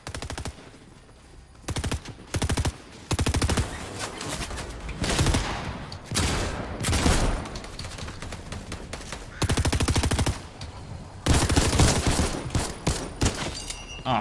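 Rapid bursts of automatic gunfire in Fortnite crack out again and again around a barn, loud and close, with short gaps between the volleys.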